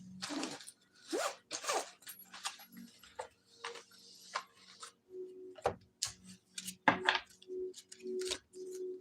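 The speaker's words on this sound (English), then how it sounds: "Let me do some shuffling here." Tarot cards being shuffled by hand in a quiet room, giving a series of short, close papery riffles and taps in uneven bursts, with no talking.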